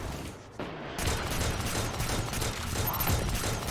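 Steady gunfire in Destiny 2 rattles on after a brief lull, loud and continuous, as a barrel is shot and destroyed during a Grandmaster run on Inverted Spire.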